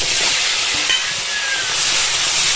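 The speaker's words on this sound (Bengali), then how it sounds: "তেল গরম আছে, দেখো আলু।" Potatoes fry in hot oil left over from frying fish, giving a loud, continuous, close sizzling hiss with no pauses or talking.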